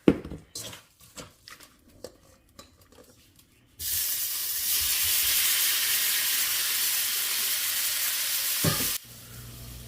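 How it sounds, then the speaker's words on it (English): Shrimp dropped into a hot skillet burst into a loud, sustained hissing sear after a few quiet handling clicks, holding steady for several seconds before cutting off abruptly. "I've already got my skillet heating up. And we're just going to cook our shrimp down first."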